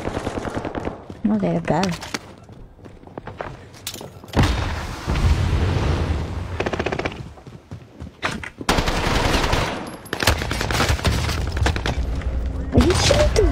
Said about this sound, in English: Are you shooting through the wall?